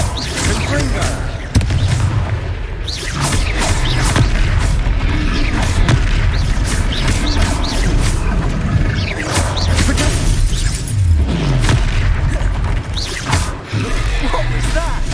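Confringo fire spells blast in a duel in Hogwarts Legacy, with repeated booming explosions and crashes over game music and combat effects while a character's voice shouts spell names.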